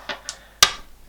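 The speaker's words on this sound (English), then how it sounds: "I'm going to try and roll a 10 with 2 dice" A pair of dice rolled during a tabletop board game, two light clicks followed by one sharper clack as they land, close and alone.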